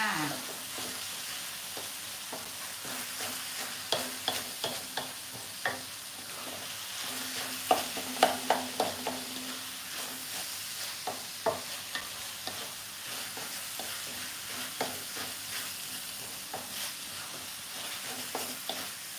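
Minced pork with a salty filling for Thai khanom tian is stir-fried in a pan: a steady sizzle runs underneath, and a spatula scrapes and taps in irregular bursts, close and fairly loud throughout.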